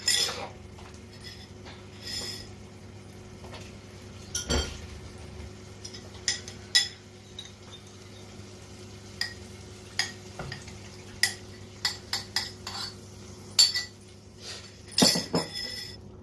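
Masala mixture for an egg masala curry is added to a pan and stirred, heard as quiet, scattered metallic clinks and scrapes of a utensil with gaps of near-silence between them.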